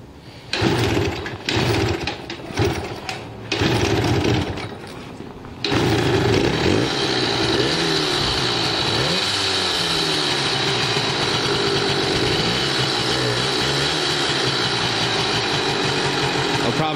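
An old engine cranks in a few uneven bursts, then fires and settles into a steady, loud idle that runs close up for the rest of the stretch.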